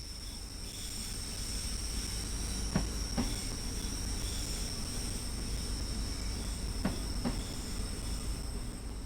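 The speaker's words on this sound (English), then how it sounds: "This particular train is a Class 314 electric multiple unit and consists of a pair of 3-car units." A Class 314 electric multiple unit train in Train Sim World 2 hums and rumbles steadily along the track, with a faint high whine and a few sharp clicks from the wheels passing rail joints.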